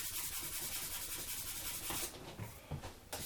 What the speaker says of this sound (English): the one last thing we do need is a piece of really fine sandpaper